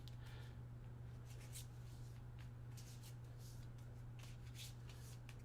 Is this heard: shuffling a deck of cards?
yes